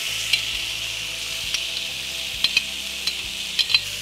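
Vegetables, beetroot and pork frying in butter in a pan give a steady close sizzle, with a few sharp utensil clicks and taps scattered through it.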